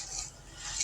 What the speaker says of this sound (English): Let me grab a spatula so I can rake the rest of that out of there. Scrape it out